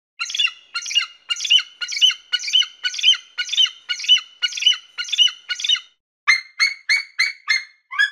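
An eagle lets out a rapid chattering series of sharp, high squawks, about a dozen rhythmic calls followed after a brief pause by a quicker run of shrill piping notes, loud and close with no talk.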